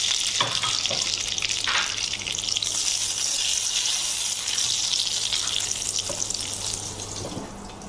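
Unboiled papaya pieces frying with a little salt in a pan, a steady broad hiss of sizzling oil throughout with a few faint clinks, close and even.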